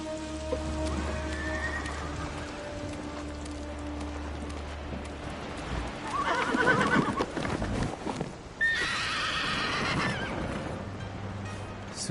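Kaze, a horse in a video game, whinnies in the rain. Rain patters steadily throughout and hooves clip-clop nearby, and two loud, drawn-out neighs rise out of the rain near the end.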